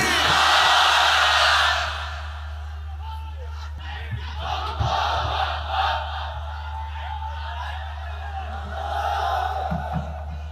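A crowd at an Islamic religious gathering in Bangladesh chants the takbir in answer to a call. It bursts out loud and full for about two seconds, then falls back to a quieter crowd murmur over a steady low hum.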